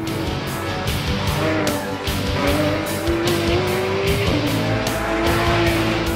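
Porsche 911 GT3 RS driven hard on the Nardo test track, its engine note rising and falling loudly through corners with tires squealing as the car slides, continuous and close with no talk.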